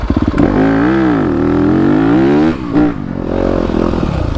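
A 2021 Yamaha YZ250FX dirt bike engine at a race starting line, running loud and close with a steady rising and falling buzz as the throttle swells, dips briefly, then picks up again.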